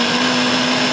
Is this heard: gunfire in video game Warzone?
no